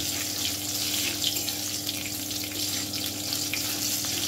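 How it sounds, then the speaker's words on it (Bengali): Tempering spices with slit green chilies stirred in oil on a very low gas flame, for a yogurt pabda fish dish; a continuous close, even sizzle with faint stirring movement and no talk. "গ্যাসের ফ্লেমটাকে এ সময় কিন্তু একদম লোতে রেখে আমি ফোড়নটা একটু নেড়ে নিচ্ছি"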